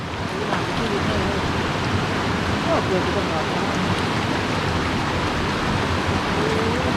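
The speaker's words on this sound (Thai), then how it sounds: "อันนี้จะเป็นน้ำไหลมาจากน้ำตกตาสนาม" Water pouring steadily from the Ta Sanam waterfall in Laos, a dense continuous rushing wash that stays constant and fairly loud throughout, with no talk over it.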